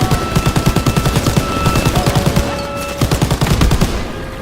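Rapid automatic gunfire during a World War II train battle, loud and close, with fast rhythmic bursts repeating across the clip and a brief pause near the middle.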